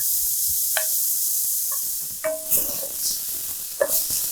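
Onions sizzle steadily in a hot pan while being stirred with a utensil, with a constant frying hiss and a few scraping and clinking strokes against the pan. Close, with no talking.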